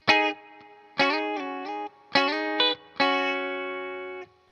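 Electric guitar with chorus and distortion plays the opening two bars of a riff: four clean, loud chord stabs in a steady rhythm, the last one ringing longer, no voices.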